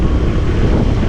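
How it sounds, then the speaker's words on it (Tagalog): Steady wind gusting across open rice paddies in the countryside, a continuous broadband rush buffeting the microphone, loud and close with no voices. "Ayan, lagi dito mahangin."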